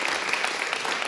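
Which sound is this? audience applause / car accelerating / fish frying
audience applause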